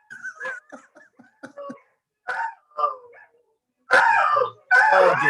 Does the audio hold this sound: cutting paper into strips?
no